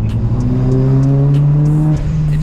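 A tuned car engine revs hard on a dyno during a boosted pull, a loud, steady, deep pulsing note that climbs smoothly in pitch for about two seconds, then drops off sharply.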